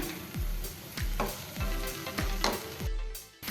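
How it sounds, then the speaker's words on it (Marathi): Tomatoes frying in a pan, a soft continuous sizzle broken by rhythmic spatula stirs and scrapes about every half second, close and without talk. "टोमॅटो सुद्धा आपण थोडेसे फ्राय करून घेऊया ते थोडे मऊ होईपर्यंत आपण घ्यायचे आहेत फ्राय करून"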